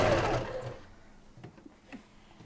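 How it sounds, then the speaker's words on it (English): A sewing machine runs loudly for under a second while stitching a polyfill-stuffed throw pillow, then cuts out, leaving quiet handling noises and a few faint clicks. "I would probably backstitch where you are leaving your opening"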